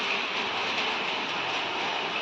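Heavy rain pours down in a steady, dense hiss that stays close and loud for the whole stretch, with no voices over it.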